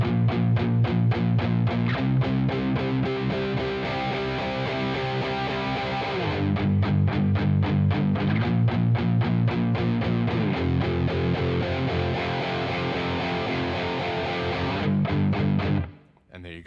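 Distorted electric guitar chugging in rhythmic palm-muted bursts, then opening into sustained ringing chords that swell in a dynamic crescendo, loud and continuous before stopping abruptly at the end.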